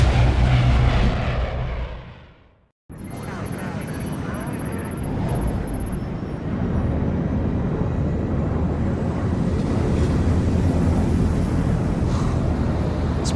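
A steady, loud airplane engine drone fills the cabin in the Splinter Cell Blacklist video game, starting after a brief silent gap and continuing evenly, with talking voices over it.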